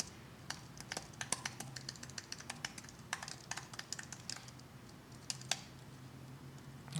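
Fingers type on a computer keyboard in a quiet room, producing irregular bursts of crisp, close key clicks with short pauses between runs, no talk.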